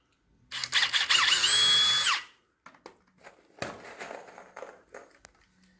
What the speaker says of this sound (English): thought I should pre-drill just to make sure I don't split that end